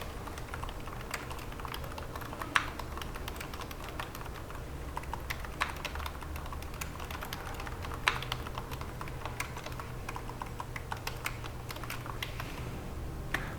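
Steady run of computer keyboard typing with scattered louder key presses standing out, likely Enter strikes, continuous and close over a low background hum, with no voices.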